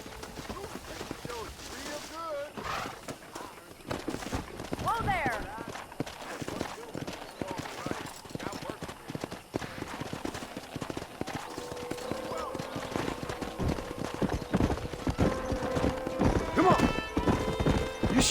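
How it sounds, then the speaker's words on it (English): Hooves clatter in a quick rhythm as horses gallop in the video game Red Dead Redemption, with occasional whinnies, under scattered speech and game music. "Let's see if we can't wrangle some horses."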